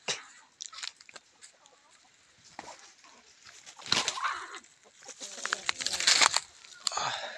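Palawan native chickens make soft, scattered clucks and brief calls in an otherwise quiet yard, in short irregular bursts at close range.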